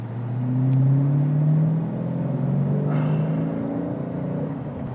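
The naturally aspirated engine of a 2015 Dodge Challenger R/T Scat Pack revs with a deep rumbling note, climbing in pitch, then easing and holding at a lower drone, loud and close with no talk.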